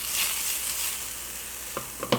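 Butter sizzling in a small Lodge cast iron skillet before eggs go in, a steady close hiss with a couple of light clicks near the end.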